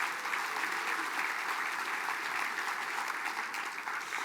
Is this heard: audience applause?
yes